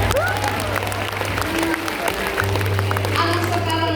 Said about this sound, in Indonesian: Tepuk tangan untuk laki-laki.